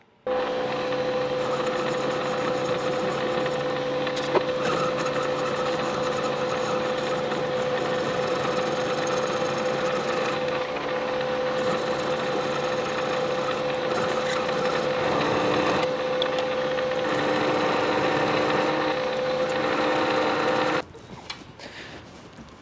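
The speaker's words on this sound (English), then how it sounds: "we're going to use the lathe." A metal lathe turns bar stock into a replacement pin for a Henchman tripod ladder, giving a steady, continuous machine whine and hum that holds for about twenty seconds before cutting off abruptly near the end.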